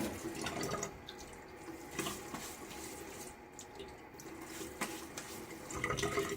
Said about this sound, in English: I'm gonna get my face wet